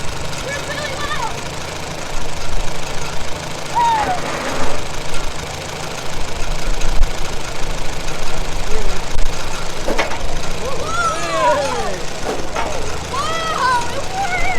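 A 1941 Farmall B tractor engine runs steadily with a low, even drone and a slightly dragging brake, while people cheer and talk loudly over it.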